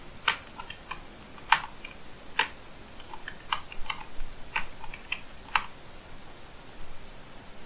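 Password being typed on a computer keyboard during user registration in a web app: a series of light, irregular key clicks, some sharper taps standing out, close and alone over faint background hiss.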